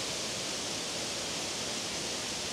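A waterfall rushes in the background at a landscape photography spot, a steady broadband roar that holds evenly throughout with no voices over it.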